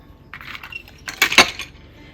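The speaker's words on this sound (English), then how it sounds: "Need some wire cutters for this part" Wire cutters snipping through a wire coat hanger, heard as a few close metallic clinks and scrapes followed by a sharp snap-like burst, with no speech.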